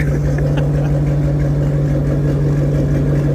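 A 2013 Shelby GT500 engine idles steadily, a low continuous rumble with a strong low hum and no revving, close and fairly loud.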